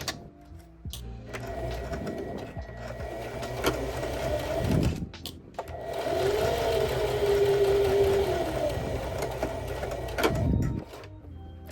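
Sewing machine stitching diagonally across joined fabric for a pouch, with two runs of fast mechanical whirring and rattling split by brief pauses and handling clicks, close and clear with no talk.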